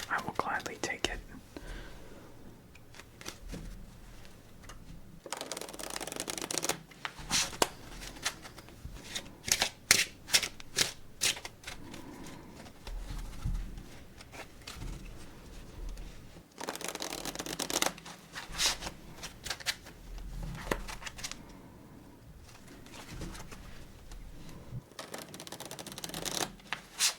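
Playing cards are shuffled in several crisp riffling bursts, close up, with soft whispering between the shuffles.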